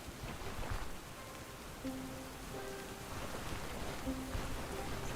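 Steady rain in the video game Stoneshard, a soft continuous hiss of falling drops on surfaces with a few faint tonal game cues mixed in, fairly quiet and without speech.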